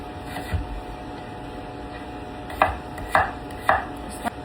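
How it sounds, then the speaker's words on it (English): A knife chops potatoes repeatedly against a cutting board, a few crisp knocks spaced unevenly, close and clear over a quiet background hum. "I'm just going to give them a good chopping."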